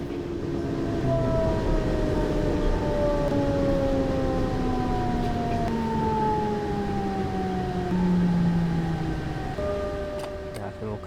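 A train in the Train Sim World game brakes into its final stop on a German main line: a loud, steady rumble with long, slowly falling brake squeals throughout, and a voice talking over it.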